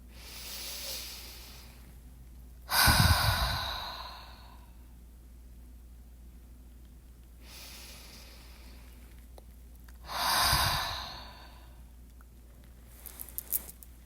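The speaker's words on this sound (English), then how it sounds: "I'll deeply inhale through the nose and then quickly dump everything out" Deep yoga breathing during a Kemetic yoga practice: two forceful, close exhales rush out after quieter nasal inhales, with a soft breath near the start and a few light taps at the end.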